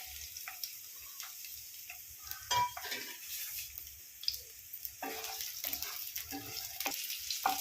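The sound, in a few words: onion and capsicum frying in oil in a pan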